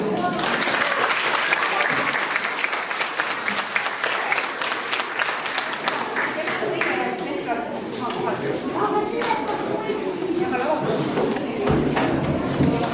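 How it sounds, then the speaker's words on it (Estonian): A school audience at a youth playback show in a gymnasium hall applauds steadily, with dense, sustained clapping that fills the room and slowly tapers, while a few voices carry underneath. "Aplaus."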